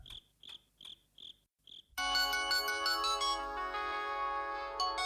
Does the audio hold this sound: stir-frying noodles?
no